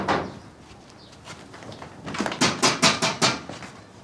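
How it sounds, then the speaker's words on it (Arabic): A door in a home, heard as a run of sharp knocks or raps, about five clear hits near the end after a quieter stretch, mid-loud and close by. "مش سامع الباب؟"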